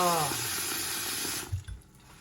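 Food rinsed under a running tap at a kitchen sink, a steady close rush of water that cuts off near the end, followed by a couple of low knocks.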